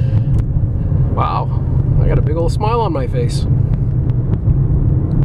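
A 2009 Toyota RAV4 V6 AWD SUV accelerating hard on a test drive, its engine and road noise forming a steady, loud low rumble throughout while someone talks over it.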